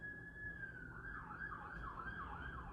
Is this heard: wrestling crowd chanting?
no